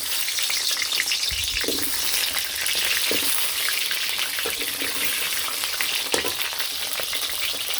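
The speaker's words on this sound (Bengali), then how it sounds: "আলুগুলো ভাজা হইতে থাক" Potatoes frying in oil in a wok, a dense continuous sizzle with occasional stirring knocks, close and steady throughout with no voices.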